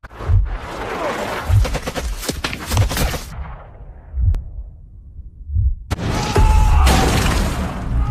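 Heavy, rumbling blasts with debris-like crackle come in bursts, then a brief lull before another loud, broadband blast erupts close by.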